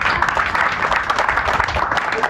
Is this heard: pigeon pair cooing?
no